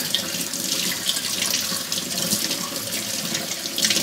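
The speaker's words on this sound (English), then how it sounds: "Turn your water on," Water runs steadily from a sink tap onto a fish being rinsed of its scales, a constant close splashing rush with no talk.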